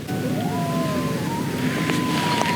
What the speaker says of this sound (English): Hear those coyotes?